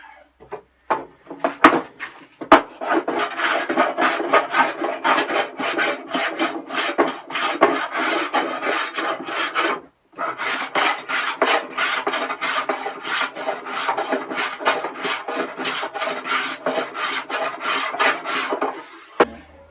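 Steady rasping strokes of sandpaper on wood, sanded by hand across the grain during a narrowboat fit-out, close and continuous, with a brief pause midway before the scraping resumes.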